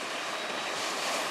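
Steady roar of ocean surf at Cape Disappointment on the Pacific Northwest coast, a broad continuous wash of breaking waves with some wind noise, loud and unbroken with no voices.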